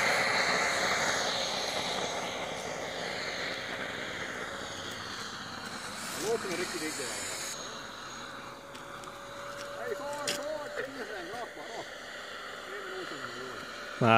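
An RC model SAAB 37 Viggen jet climbs away after takeoff, its engine whine steady and moderately loud, fading slightly with a rising tone near the end while people talk in the background.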